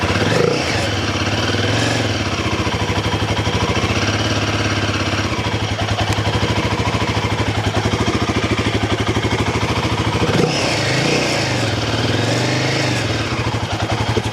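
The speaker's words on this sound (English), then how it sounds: "let's start that bike up and see what it sounds like with the new air filter cover" A Royal Enfield Himalayan 450 motorcycle fitted with a new air filter cover starts and runs at a steady idle, a loud, close, continuous thrumming engine note with a slight rev swell near the end, no talk over it.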